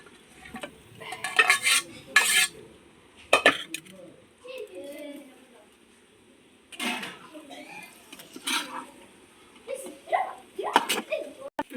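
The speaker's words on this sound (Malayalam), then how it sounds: "എന്നിട്ട് ഇളക്കാം" A metal spoon scrapes and clinks in a pot as fried chicken is stirred into biryani masala, coming in irregular bursts of clatter while a voice talks intermittently.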